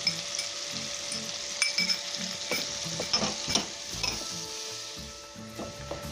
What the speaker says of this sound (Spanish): Vamos a dejar que se sofría un poco por unos segundos